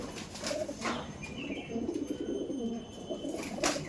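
Kaldom pigeons released from a loft, wings flapping in a few close bursts amid soft cooing and bird calls, with a steady background murmur.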